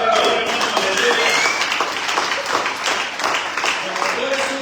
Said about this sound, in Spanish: Le doy un aplauso al Padre, hermano.